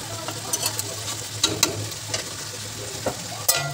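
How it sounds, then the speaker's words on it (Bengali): Mustard hilsa fish curry stirred in a pan, with soft scraping spoon strokes and light clicks over a low, steady sizzle, close and moderately quiet. "তো আমি ভালো করে নেড়ে চেড়ে আবার ঢাকা দিয়ে দেব 15 মিনিটের জন্য।"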